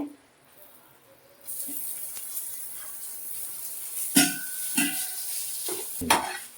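Grated coconut being stirred with jaggery in a pan, a soft steady hiss with several distinct scraping knocks of a spoon toward the end, close and with no talking.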